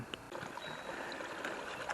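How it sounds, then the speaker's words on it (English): A small brook flowing along a walking route in the Upper Holme Valley near Holmfirth gives a steady, fairly faint watery rush with light gurgles, alone with no talk. "So we've got a bit of a brook"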